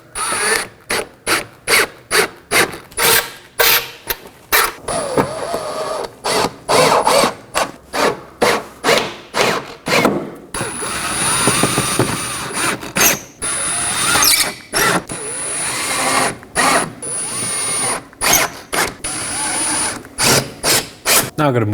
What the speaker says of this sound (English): let's go ahead and install our T15 screws.